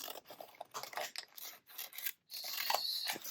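Scissors cutting out paper pieces for a half-scale house model, producing close rasping snips in short strokes, a brief pause, then a longer steady cutting stroke.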